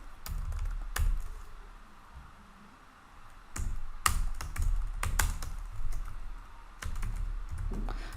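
Computer keyboard typing while writing a MySQL foreign key reference, with bursts of quick key clicks broken by short pauses, close and fairly soft, with no talking.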